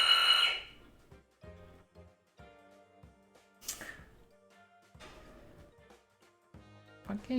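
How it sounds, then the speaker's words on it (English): A doorbell rings indoors with bright electronic chime tones, once at the start and again midway, over soft background music. "Fucking doorbell."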